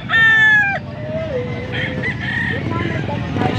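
A six-month-old stag gamecock crows loudly and close, one long drawn-out call at the start, followed by softer clucking and short calls from nearby fowl under background murmur.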